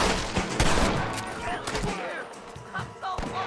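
A rapid burst of gunshots from a gun in the Western video game Red Dead Redemption, loud and close, several cracks in quick succession followed by more scattered shots.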